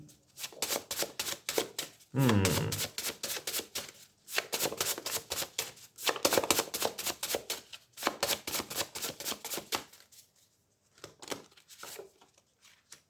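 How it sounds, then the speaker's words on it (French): Tarot cards are shuffled and handled in quick, dense bursts of crisp riffling close up, broken by short pauses and quieter stretches toward the end. "On va tirer une autre carte par-dessus."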